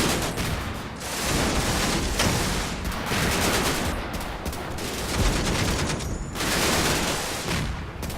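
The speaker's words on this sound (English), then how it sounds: "Heaps of covering fire on these." Sustained covering fire in a war video game, a continuous roar of overlapping gunshots and bursts across the whole stretch, loud and steady without voices.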